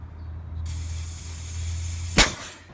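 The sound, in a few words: pressure released hissing from Honda Accord AC line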